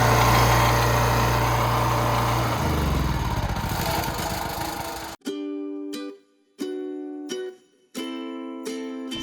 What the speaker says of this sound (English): now I'm gonna go turn off the generator.